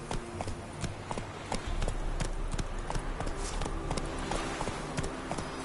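A horse gallops in The Witcher 3: Wild Hunt, its hooves pounding in a quick, regular clip-clop that stays close and loud throughout.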